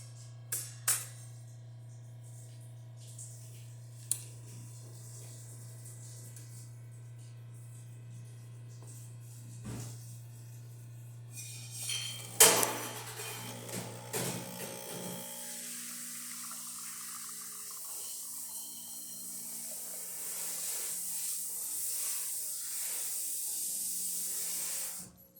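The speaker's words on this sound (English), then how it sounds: "This is the hot water." A Breville Oracle espresso machine dispenses hot water as a steady hiss and spray that builds and holds, following a low motor hum and a few clicks, with no talking.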